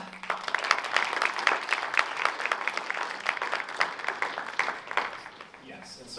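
After a student political debate on abortion and marijuana legalization, an audience applauds its panelists with a dense, moderately loud patter of clapping that carries steadily and then thins toward the end.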